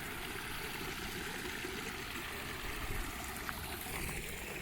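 Water trickles from a small spout on a trail by Haigmill Lake, dropping into the lake as an even, close, continuous splashing hiss with no voices.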